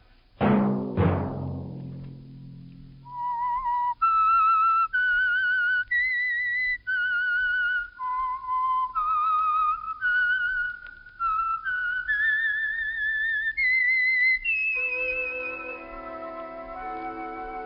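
A lone whistler carries a slow, wavering tune, clear and close, after two sharp plucked notes open an old-time radio drama passage; later a low accompaniment joins.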